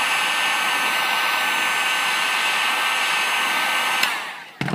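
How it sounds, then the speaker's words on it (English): A heat tool blows a steady, loud, continuous hiss of hot air over part of a zombie prop, holding constant for about four seconds before cutting off abruptly. "I'm just going to heat the area. Just like so."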